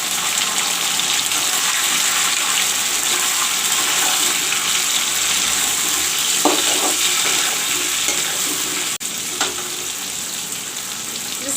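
Chopped tomatoes, four of them, tipped onto browned onions frying in a pan for a Rohu fish masala curry, giving a steady close sizzle and hiss throughout with a few stirring knocks and a brief clatter near the end.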